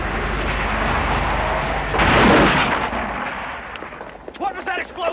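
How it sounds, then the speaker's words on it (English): A loud explosion-like burst in a 1988 action comedy film, a dense roar peaking midway over continuous rumbling, with people shouting and talking around it. "What was that explosion?"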